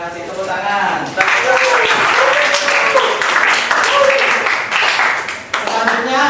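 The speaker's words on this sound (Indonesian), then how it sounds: "Terima kasih, tepuk tangan." Classroom applause from a group of students, steady close clapping sustained for several seconds, mixed with chatter and a voice speaking underneath.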